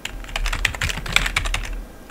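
Quick run of keystrokes on a computer keyboard while C++ code is typed in, a steady clatter of close, crisp clicks with a few sharper accents and no talking.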